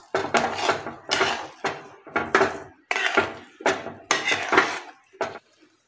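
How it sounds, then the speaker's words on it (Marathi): A spoon scrapes and clanks against a pan while sheera, a sweet semolina pudding, is stirred and roasted, in rhythmic bursts of metallic scraping separated by brief pauses, close and fairly loud. "आपल्याला याला छान असं परतून घ्यायचं आहे, जेणेकरून हा खाली लागणार नाही त्यासाठी"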